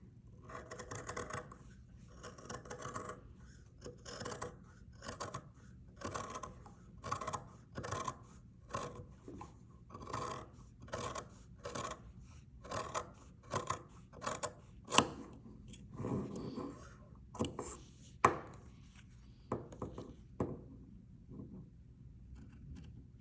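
Scissors snip through a fabric seam allowance on a half-scale top collar, making a regular series of short, crisp cuts up close that turn quicker and more irregular toward the end.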